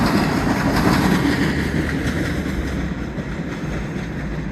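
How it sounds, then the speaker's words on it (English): NYC subway 7 train at Hunters Point Ave rolling past with loud clattering wheels that slowly fade, no one speaking. "There goes the 7 train"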